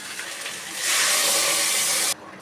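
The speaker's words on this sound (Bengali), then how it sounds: "এবার আমার গরম জল করা হয়ে গেছে, এবার ঢেলে দেবো" Hot water poured into a pan of vegetarian fish curry sets off a loud, sustained hiss and sizzle that lasts over a second, then cuts off abruptly, leaving a low bubbling.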